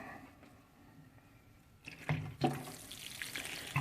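Water poured from a large outdoor watering can onto a cedar pot, splashing and trickling in a few close bursts after a quiet start.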